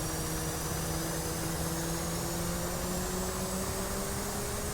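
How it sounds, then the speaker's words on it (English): An F/A-18C jet engine spooling up during a carrier start-up in the DCS flight simulator: a steady, loud broadband roar with rising whining tones that climb gradually across the stretch. "I'm now going to start the right engine."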